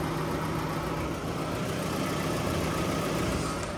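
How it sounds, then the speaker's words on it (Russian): A Toyota Alphard minivan's engine idles steadily, a smooth continuous hum with a low, even drone, heard up close and alone with no talk. "А, как работает двигатель,"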